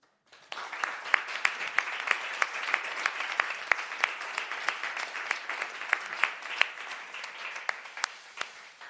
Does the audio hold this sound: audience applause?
yes